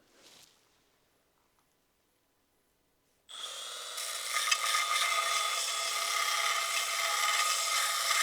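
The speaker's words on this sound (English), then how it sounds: "Just needs a tiny little tickle with a little belt sander, and I'm going to do it on the back edge" A small belt sander grinds the back edge of a custom alternator bracket for an LS-swapped BMW E30, starting after three seconds of near silence and then running as a loud, steady, bright whirring rasp until the end.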